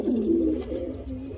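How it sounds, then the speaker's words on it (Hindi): A black fantail pigeon coos close by, a low throaty rolling call that swells at the start and trails off into a softer second coo. "इसी तरीके से दोस्तों गुटर रहा है।"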